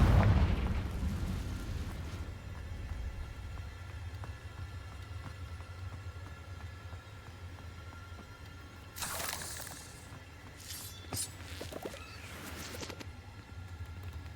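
A Confringo fire spell bursting in Hogwarts Legacy, a loud close blast at the start that fades into a rumbling tail, followed by quieter crackling magical bursts later, no talking.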